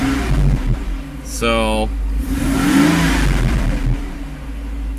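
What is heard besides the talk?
car engine running after cold start with rebuilt fuel distributor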